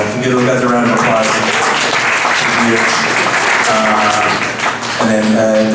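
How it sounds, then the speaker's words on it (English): A crowd applauds steadily throughout, dense clapping filling the room, with a voice and some tonal background sound mixed underneath. "give those guys a round of applause"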